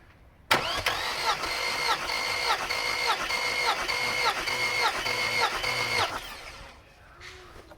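The starter of a Mercedes W124 cranks the engine in an even, rapid, whirring rhythm for about five and a half seconds during a cylinder compression test, loud and close, then cuts off and winds down.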